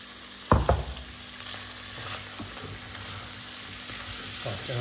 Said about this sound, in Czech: Cibulka už je lehce růžová, takže do toho šoupnu to maso.